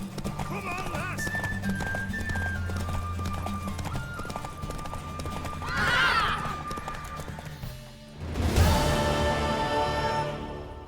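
In The Witcher 3 a horse gallops with rapid rhythmic hoofbeats during a race, with a loud whinny partway through. Music plays beneath and a voice can be heard.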